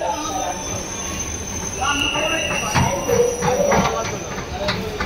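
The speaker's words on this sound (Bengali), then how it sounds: "আমরা এখন সামনে ট্রেনে উঠবো, মেট্রো রেলে উঠবো।" A metro rail train at a station platform rolls and screeches with high wheel squeal and rumbling carriages, fairly loud and close, as people speak nearby.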